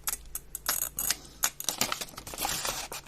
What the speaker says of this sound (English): with my antique scissors,